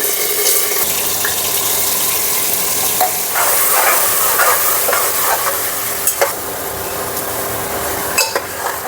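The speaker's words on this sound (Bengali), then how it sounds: "এখন আমি মাংসটাকে ঢেলে দিচ্ছি।" Mutton poured into a pan of frying onions, a loud continuous sizzle with spoon scrapes and stirring clatter, a few sharp clinks standing out.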